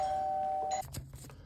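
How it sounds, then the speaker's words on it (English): Electronic doorbell chime just installed in a home, a steady single tone held for most of a second before cutting off, followed by faint handling clatter. "We got us a doorbell."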